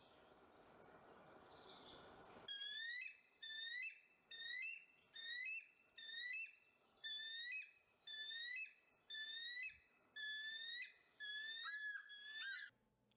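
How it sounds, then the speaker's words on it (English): A bald eagle's high, thin piping calls repeated in about ten rapid bursts at a steady rhythm, fairly close, after a brief stretch of outdoor noise. "Here's what the bald eagle sounds like."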